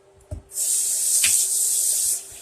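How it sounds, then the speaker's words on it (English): Tap water runs steadily into a pan of rice being rinsed, a bright close hiss lasting about two seconds after a light knock at the start, then cutting off. "And then we're going to rinse the rice off."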